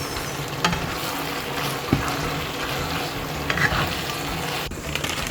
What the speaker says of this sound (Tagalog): Ayan, kumukulo ng tubig.